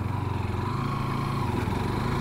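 A Hero Xtreme 160R 4V motorcycle rides along an empty road and makes a U-turn, its single engine thrumming in a steady, pulsing drone close by, with no voices.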